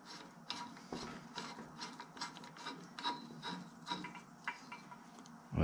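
A power steering pulley puller's forcing screw is turned with a tool, giving faint, close clicking and grinding mechanical rubs in an uneven rhythm, ending with a louder knock.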